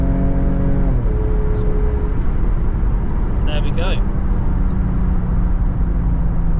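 A petrol V6 Jaguar XF engine with a manual gearbox hums steadily at low revs, dropping in pitch as it shifts, with a brief spoken remark over it.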